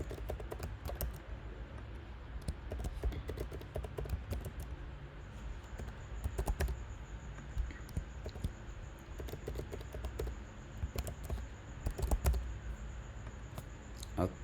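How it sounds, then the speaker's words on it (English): Close-up typing on a computer keyboard, rapid irregular key clicks in bursts with short pauses, crisp and moderately loud, with no speech. "I'll enter my username and password."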